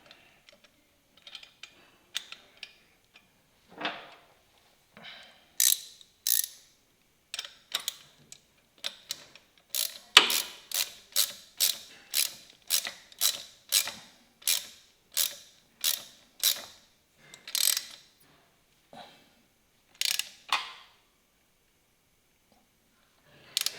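A hand tool tightens a bolt on motorcycle floorboards, giving a close series of sharp ratcheting clicks in a steady rhythm, with a few scattered handling noises before and after.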